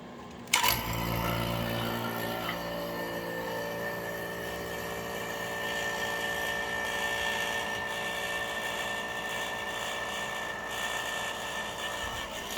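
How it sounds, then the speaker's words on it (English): Vacuum pump evacuating a closed-loop extraction vessel starts with a sharp click and then drones steadily, a continuous motor hum with tonal whine holding for over ten seconds. "so I'm going to vacuum it"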